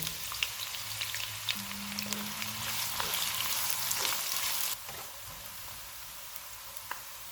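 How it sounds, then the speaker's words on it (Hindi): Sizzling of a large onion frying golden in a hot pan, a steady crackle with small pops that eases off near the end. "बड़े साइज़ का एक प्याज डालेंगे और इसको गोल्डन फ्राई करेंगे"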